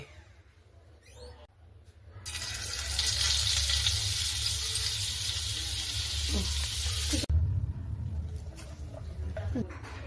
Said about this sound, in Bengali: আগে থেকে ফ্রাই প্যানে তেল দেওয়া হয়ে গেছে, এবার বাটার দেওয়া হবে